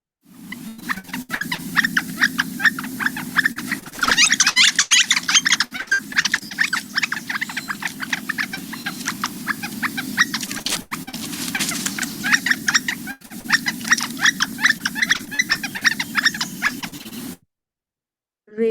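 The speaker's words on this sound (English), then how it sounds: "And then sometimes a much more rapid call." Northern flicker giving a rapid call, a long fast run of sharp, high, evenly repeated notes that rises and falls in intensity for around seventeen seconds before stopping abruptly.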